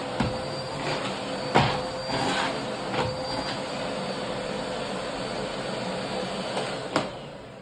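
A Bosch BGC21X200 bagless dry vacuum cleaner runs steadily up close, a loud constant rushing roar with a thin motor whine, broken by a few sharp clicks and knocks as it sucks up dust. No voices.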